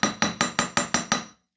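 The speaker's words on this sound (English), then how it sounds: "Now I'm just going to hammer the loop on the end of a wire block" A hammer strikes a wire loop resting on a steel block, seven sharp, evenly spaced metallic blows ringing briefly before fading to silence.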